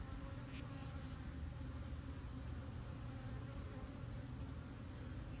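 Dense, steady buzzing of many honey bees in an open hive packed with swarm cells, a continuous close drone throughout with no speech.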